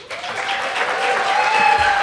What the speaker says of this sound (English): if everybody would hold their applause until the presentation is over